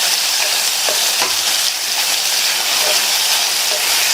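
Vegetables sizzle loudly in a hot pan as they are stirred and sautéed, a steady close frying hiss with a few scraping strokes of the spoon and no voices.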